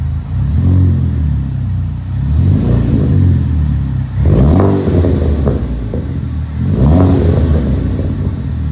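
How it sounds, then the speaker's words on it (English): A Chevrolet Cobalt SS fitted with a Vibrant aftermarket exhaust revs repeatedly: three loud, close engine blips rise and fall in rhythm over a steady idle, with no one speaking. "that is exhaust from Vibrant"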